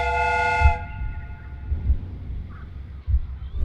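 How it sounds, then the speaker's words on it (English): Steam whistle of a replica train in the Sherlock Holmes: Crimes and Punishments video game, a short steady tonal blast that cuts off abruptly, followed by low rumbling thuds. "The steam whistle is ready to be used."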